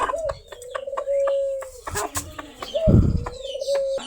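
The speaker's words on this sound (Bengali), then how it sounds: "দিন দিন আমাদের কবুতরের বাচ্চাগুলো বড় হইতেছে" Pigeon chicks give soft cooing calls in a backyard poultry setting among ducklings and quail, a few tonal coos rising and falling over about four seconds, fairly close, with a brief louder rustle or flutter near the end and no speech.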